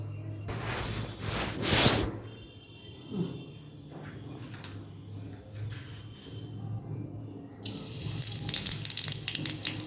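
Cooking oil heats in a pan, giving a steady, close sizzle and hiss with a few soft kitchen clatters and a brighter crackle toward the end.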